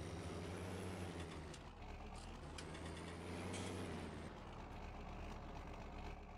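A truck engine idles steadily in the Landwirtschafts-Simulator 19 farming game, a low continuous rumble with a faint hiss, quiet and even throughout with no talk.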